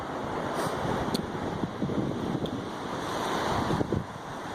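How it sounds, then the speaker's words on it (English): A river flows steadily outdoors after a day on an off-road trail, a broad continuous rushing wash with gusty wind on the microphone, heard alone. "Just enjoying a little bit of time at the water before I call it a day down here at the river. Flowing pretty good."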